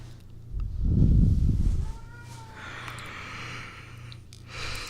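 A cat meows close by, with one loud drawn-out call near the start followed by quieter vocal sounds, heard alone without talk.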